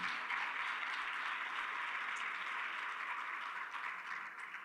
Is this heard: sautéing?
no